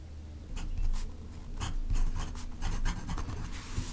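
A fountain pen scratches across paper in short, close, quiet strokes, a steady run of soft scritching marks with small pauses between.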